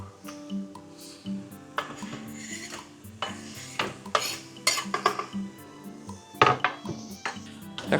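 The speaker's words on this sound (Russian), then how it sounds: "Так что мы жарим лук" Onion frying in a pot on a gas stove, with clinks of a utensil against metal and stirring scrapes over a faint sizzle, close and fairly quiet with intermittent louder knocks.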